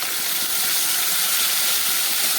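Paste of green chilli, onion and garlic hits hot oil in a pan for a Bengali katla fish curry, giving a loud continuous broad sizzling hiss throughout.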